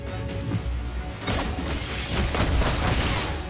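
Rapid bursts of video game gunfire from Mobile Legends crackle and boom continuously, dense and layered like a busy firefight with scattered impacts.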